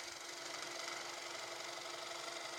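A wooden bowl spins on a lathe as the tool takes a fine finishing shaving, heard as a quiet, steady, even whir and hum with a faint tonal drone running throughout.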